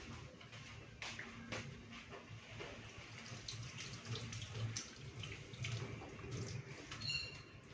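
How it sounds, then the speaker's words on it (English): A kitchen tap runs while hands are rinsed under it, giving a soft, continuous splashing stream with small irregular spatters, faint and steady throughout with no talking. "Let me rinse my hands."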